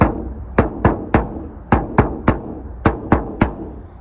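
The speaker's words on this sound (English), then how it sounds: "It's not the beating of the drum" A drum is beaten with sharp, resonant strikes, nine in all, falling in three groups of three. Each hit rings out and decays quickly, loud and close, with no voices.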